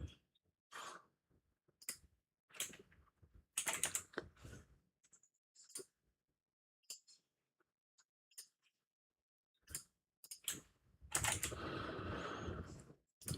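A computer keyboard clatters in irregular bursts of close, crisp key presses and clicks, with quiet gaps between them and a denser flurry of typing near the end.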